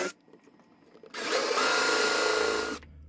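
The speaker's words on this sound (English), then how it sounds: "what you're gonna use is a 1-inch drill bit to go ahead and drill your holes" A power drill fitted with a 1-inch bit bores into wood held in a jig with a spoiler board behind it, a steady loud whirring grind lasting under two seconds after quiet, then stopping abruptly.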